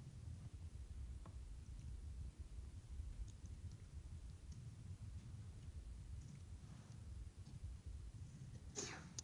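A single sneeze from someone in an engineering lecture hall, brief and fairly sharp near the end, over a low steady room rumble with faint rustling.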